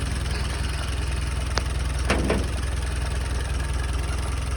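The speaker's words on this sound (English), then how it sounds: "I'm gonna let you just listen to it idle for a bit" A Jeep engine idles steadily and loud at close range, a constant low rumble with a couple of faint clicks partway through.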